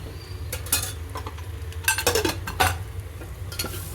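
Onion and tomato being stirred in a little oil in a pan for soda bhat, with spoon scrapes and clinks against the pan over a low steady sizzle; a few louder stirring bursts stand out, no talking.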